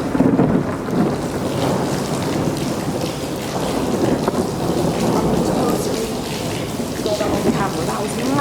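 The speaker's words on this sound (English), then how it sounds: "There's huge bolts coming down, really pounding down the rain." A severe thunderstorm in Dubai, with heavy pounding rain and low thunder from huge lightning bolts; a loud surge opens the clip, then steady dense downpour roars on with rumbling underneath.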